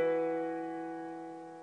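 A single gospel piano chord from Charles Jenkins' "Awesome" is struck once, close and clear, and rings out alone, fading steadily.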